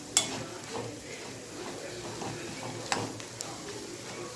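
Ingredients for a kandi (toor dal) chutney fry gently in a pan with a soft, low sizzle, punctuated by occasional light clinks and scrapes of stirring.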